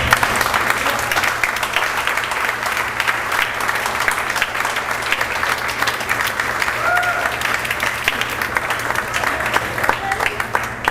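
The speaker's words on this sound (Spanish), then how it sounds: "Puede dar un buen aplauso a Dios." A church congregation gives sustained applause, steady rapid clapping from many hands filling the room with faint voices underneath.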